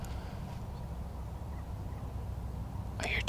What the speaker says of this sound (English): I hear turkeys